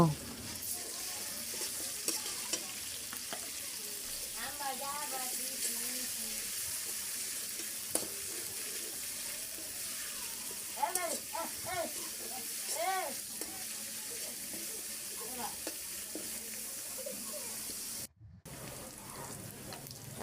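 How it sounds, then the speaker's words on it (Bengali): Chopped onions fry lightly in a pan with a steady, soft sizzle throughout; a voice is heard now and then over the cooking noise. "পেঁয়াজগুলো একটু হালকা ভাজি করে নিয়ে তারপরে রসুন বাটা দিয়ে দিব"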